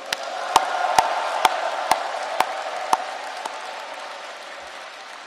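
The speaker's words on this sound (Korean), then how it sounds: "여러분에게 뜨거운 격려의 박수를 보내드립니다." At a national Saemaul leaders' convention, a large crowd applauds in encouragement, a broad wash of clapping from a big hall punctuated by several sharp, regularly spaced loud claps that soon stop as the ovation tapers off.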